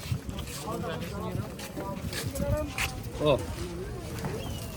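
A boat setting off across flooded water, with a wash of wind and water noise under close, frequent conversation.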